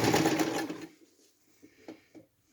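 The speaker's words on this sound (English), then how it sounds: "And for this one, I like to use a zigzag stitch just to keep it in place." An old sewing machine zigzag stitching a fabric face mask: a fast, close mechanical whirr that runs for about a second and then stops, followed by a few faint clicks and taps.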